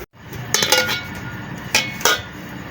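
Beef Shinwari karahi is served into a dish, with metal utensils clinking sharply against cookware in three or four distinct, close strikes over steady background noise.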